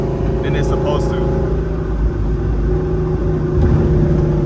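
Loud exhaust drone from an FBO CJ 5.0, a naturally aspirated Gen 2 car with a stripped, seatless cabin, pulling hard with a steady, heavy engine roar that fills the clip from inside the car.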